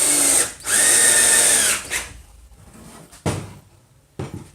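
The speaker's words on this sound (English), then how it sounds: "I am going to go ahead and lock this down with 2 screws on each side" A power drill drives screws into wood to lock a piece down, two loud close whirring bursts followed by a few sharp knocks and clatters.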